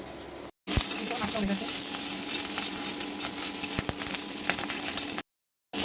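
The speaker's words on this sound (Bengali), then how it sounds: "একবারে একটা পেঁয়াজ কুচি লবণ হলুদ দিয়ে কড়ার মধ্যে দিয়ে দেবো" Chopped onion with salt and turmeric frying in a kadai gives a loud, steady sizzle that runs without a break between two brief cuts.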